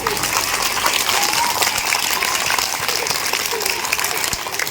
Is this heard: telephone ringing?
no